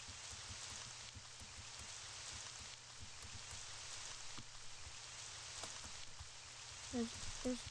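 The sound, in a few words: rain falling outside in video game Autumn's Journey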